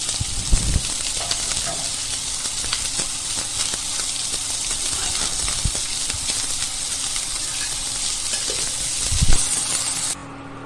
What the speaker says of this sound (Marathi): आपण कांदा भाजून घेऊ आणि हा कांदा आपण फोडणीसाठी घेऊ